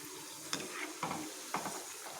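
Onion bonda deep frying in hot oil at a tea-stall style stove, a soft steady sizzle broken by three brief scraping stirs spaced about half a second apart, close and fairly quiet, with no voices.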